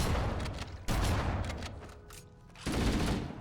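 Shotgun blasts in the first-person shooter Halo Combat Evolved Anniversary, several loud booming reports with rumbling decay, spaced irregularly across a few seconds.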